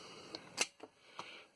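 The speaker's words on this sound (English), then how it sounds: "the film, when you wind it with that, pulls across that guy and resets the shutter." Film advance on a Lomography Simple Use disposable camera: a few quick, faint mechanical clicks and ratchet ticks, spaced irregularly over a second and a half, close up with no talking.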